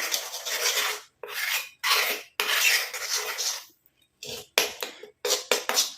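Homemade hair dye paste made with rice starch water is stirred in a bowl, giving repeated scraping, rasping strokes in short bursts separated by brief pauses, close and fairly clear.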